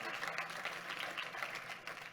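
A congregation applauds during a church sermon, steady dense clapping filling the space at moderate loudness throughout.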